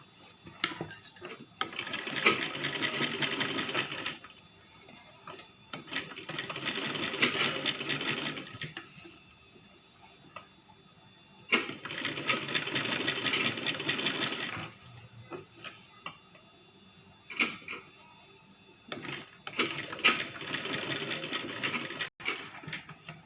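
A sewing machine stitches a child's lehenga skirt in four long bursts of steady whirring, separated by short pauses with small handling clicks, close and clear without talk.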